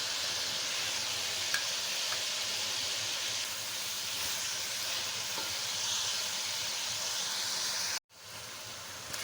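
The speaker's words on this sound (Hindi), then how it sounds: "चिकन हमारा फ्राई हो रहा है और 2 स्पून पिसा हुआ लहसुन डाल दें" Chicken fries in oil with ground garlic for an Afghani chicken karahi, giving a steady close sizzle that holds for about eight seconds before cutting off abruptly and partly resuming, with no speech.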